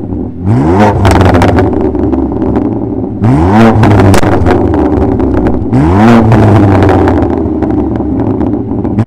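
BMW F8x M3/M4 with a full custom exhaust revved three times in a row, each a loud, deep, bassy climb with a sharp rise in pitch, idling rumble between, close up and with no talk.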